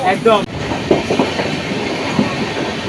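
A passenger train on the Sealdah to NJP route rolls along the rails at night, a steady rumble with rhythmic wheel clatter and a brief tonal squeal at the start, heard from inside with faint voices.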